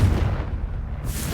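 A booming blast from the Confringo spell in Hogwarts Legacy, a dense, heavy explosion that fills the whole short moment with low rumble and a bright hiss rising at the end.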